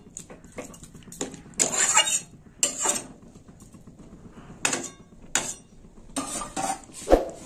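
Vegetable shukto with drumstick flowers and coconut milk stirred in a cooking pot, a spoon scraping and clinking against the metal in several short bursts with quiet gaps between.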